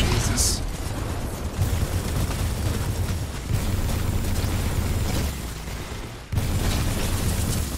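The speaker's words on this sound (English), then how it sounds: "Oh, the laser rifle is so awesome." Laser rifle fire from Titanfall 2 roars in a dense, continuous barrage of booming shots and explosions that hold steady throughout, briefly dipping near the end before surging back.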